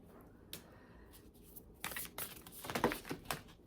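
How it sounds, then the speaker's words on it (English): Soft riffling and slapping of a deck of playing cards being shuffled, quiet at first then a few sharper flurries near the end, no talking. "I am going to shuffle my deck and see what we get"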